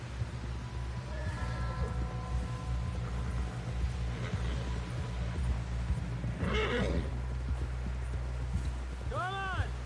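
A horse in the Red Dead Redemption 2 video game gives several whinnies over steady hoofbeats, with voices talking over a low rumbling game background.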